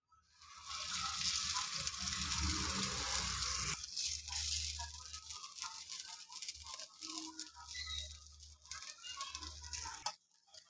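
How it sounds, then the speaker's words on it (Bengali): Paddu batter sizzles and crackles as it is spooned into an oiled paddu pan, a steady bright frying hiss with small rattles and taps of a utensil, pausing briefly midway and continuing close and loud until a final clink. "পাড্ডুর বাটারটা আমি দিয়ে দিচ্ছি এতে"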